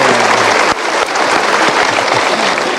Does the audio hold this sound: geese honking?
no